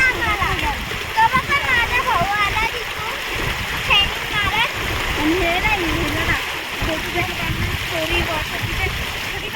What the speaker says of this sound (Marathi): छान आहे छोटा धबधबा आहे